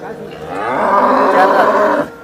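A single loud, drawn-out cow moo at the Sangola cattle market, close and resonant, lasting about two seconds before fading into faint background noise.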